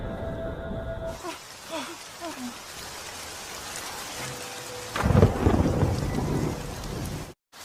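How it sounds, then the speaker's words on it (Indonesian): Thunder rumbles and rolls under a steady downpour of rain. A louder crack and roll swells near the end before the sound cuts off. "Terlihat petir menyambar dan langit mulai mendung."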